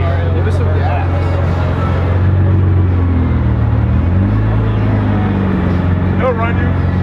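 A 1550 HP Nissan GT-R fitted with a nitrous bottle rumbles loudly and close, its deep engine note swelling and shifting as the throttle is worked, with people talking nearby.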